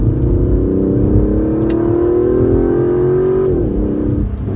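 An Aston Martin DB11 accelerates through corners, its engine note rising steadily in a loud, smooth climb before easing off near the end, with steady road roar beneath.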